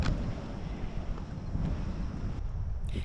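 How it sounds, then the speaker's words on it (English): Steady wind buffets the microphone at a beach campground near the dunes, a continuous loud rushing roar with low rumbling gusts and no talk. "As you can see, the wind is blowing"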